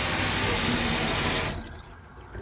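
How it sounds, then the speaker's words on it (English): Water pours from a newly installed pull-down gooseneck kitchen faucet in a steady, close, full rush, then cuts off abruptly about two-thirds through, leaving a quieter drip and trickle. "check for leaks and open the faucet also"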